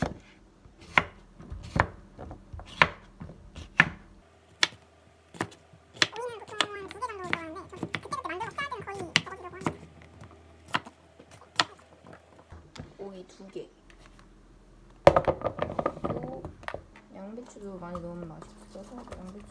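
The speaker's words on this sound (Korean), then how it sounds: "일단 오이. 오이랑 토마토는 약간 필수. 이렇게 반 발라가지고." Knife chops cucumber halves on a cutting board in a home kitchen, a run of sharp, evenly spaced taps near the start and again toward the end, with someone talking in between.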